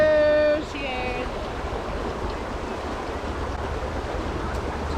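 A creek at Metcalf Bottoms in the Great Smoky Mountains near Gatlinburg, Tennessee, gives a steady broadband rush of flowing water, fairly loud and close, after a brief tonal sound at the start.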